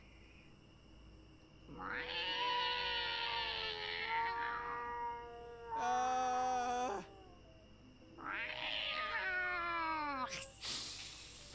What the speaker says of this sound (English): Oh my god, it's a cat.